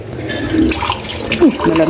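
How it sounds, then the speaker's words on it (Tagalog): Tap water runs into a pot of rice being washed, a steady splashing flow heard close up beneath a woman's speech. "magbugas muna tayo"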